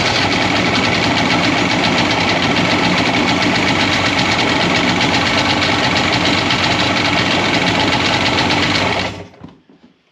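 Two-stroke engine of a Polaris Virage 700 jet ski that had run rough before this, now running loud and steady with a buzzing, rattly drone close by for about nine seconds before it cuts off abruptly.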